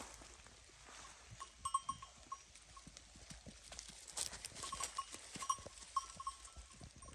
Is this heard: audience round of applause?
no